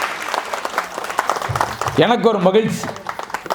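An audience at a Tamil debate stage event applauds in a light, scattered patter of clapping that runs under someone speaking throughout.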